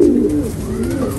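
Pigeons or doves cooing steadily and close by, a soft continuous run of low calls among birds being brought out for sale.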